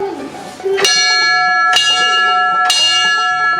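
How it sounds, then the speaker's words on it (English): A loud fire bell in Weed, California, struck three times at even intervals, each clang ringing out and sustaining bright overtones into the next; faint voices murmur before the first strike. "He was nice enough to let me ring the fire bell."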